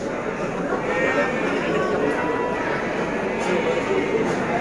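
Garut sheep bleat amid the steady crowd noise of a livestock market at Tanjungsari, with people talking throughout and the animal calls blending into the busy background.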